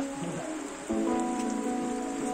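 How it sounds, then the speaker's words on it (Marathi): Outdoor rainfall makes a steady patter and hiss on surfaces, moderately loud and continuous, with a low hum running beneath it and no talking. "आता हयसर पाऊस पडता"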